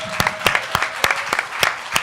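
Scattered hand claps ring out at an addiction-recovery talk, sharp individual claps spaced a few tenths of a second apart, sounding like a small audience clapping fairly loudly.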